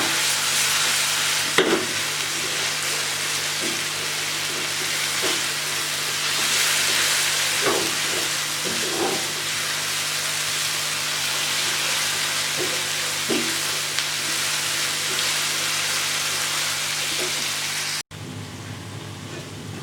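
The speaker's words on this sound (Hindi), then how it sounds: "ये अच्छे से मसाले हमने भून लिए हैं, अदरक लहसुन और हरी मिर्चों को भी हमने भून लिया।" Spices, ginger, garlic and green chillies fry in a pan for a fish curry, giving a steady close sizzle with occasional stirring clicks. It runs unbroken for most of the stretch, then drops suddenly to a quieter hiss.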